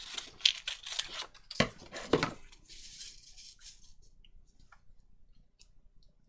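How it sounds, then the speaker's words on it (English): Scissors cut through paper in a few quick close snips and rustles near the start, then quieter faint clicks and handling noises trail off. "I'm going to cut that off about there."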